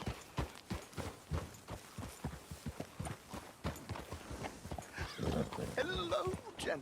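Horse hooves clop in quick irregular steps in Red Dead Redemption 2, close and fairly loud, followed near the end by a whinny and overlapping voices talking.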